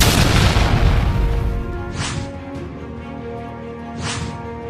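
A deep, loud boom opens with a long rumbling tail, followed by two fainter bursts a couple of seconds apart, like explosions.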